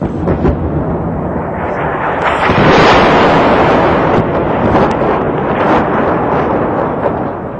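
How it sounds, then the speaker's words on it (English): Shells and missiles exploding over Sarajevo during the 1992 siege, a continuous heavy rumbling roar that swells loudest midway and stays dense throughout, with no voices. "Shells and missiles, coming in ones, in twos, in threes, random and indiscriminate"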